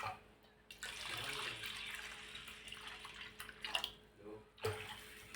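Plenty of water is poured over washed moong dal in a container to soak, a steady splashing rush that pauses briefly, close and moderately quiet, with a few faint clinks.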